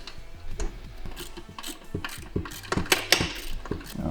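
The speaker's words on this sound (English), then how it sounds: "So we'll go ahead and loosen this up." A socket wrench ratchets while loosening a track adjuster bolt on a Camso 4S1 or T4S snowmobile track system, giving close, irregular bursts of clicking with short pauses between strokes.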